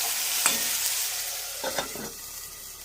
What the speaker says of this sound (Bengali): আমি নাড়তে থাকবো এইভাবে